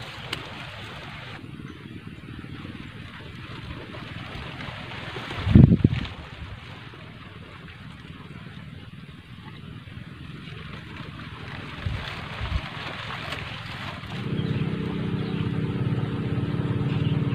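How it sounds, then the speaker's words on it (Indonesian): A boat passes on a river at a fishing spot in Kawunganten, heard as a low engine drone that builds toward the end over steady wind noise. A brief thump comes partway through. "Ada perahu lewat lagi saudaraku,"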